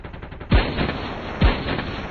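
Gunfire from Call of Duty Mobile comes as two heavy booming shots about a second apart over a constant low background of game ambience.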